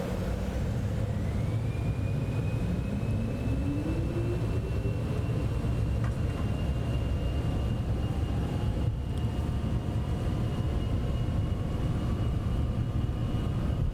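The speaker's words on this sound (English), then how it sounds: "V1 rotate and the aircraft lifts off so nicely there" Cessna Citation X business jet in a flight simulator, a steady loud engine roar with a rising whine climbing in pitch during the takeoff roll, continuous and without talk.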